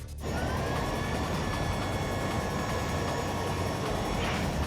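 A private jet makes its landing approach with full flaps and gear down, producing a loud, steady engine roar and rushing air that begins abruptly and holds throughout, with no talking.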